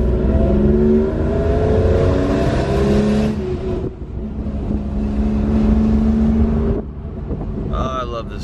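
A V6 car engine revs loudly and steadily for several seconds. Its rough drone rises and dips, then drops off briefly near the end.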